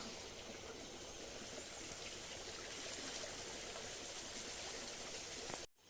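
A small stream flows in a high, quiet rural spot, its steady faint burble of water continuous and unbroken, heard from a short distance.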